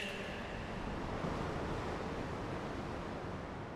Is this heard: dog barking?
no